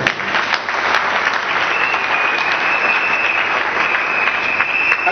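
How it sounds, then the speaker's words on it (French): A church congregation applauds the King of Kings with loud, sustained, even clapping from many hands, and a faint high ringing tone runs through part of it. "On acclame le roi des rois."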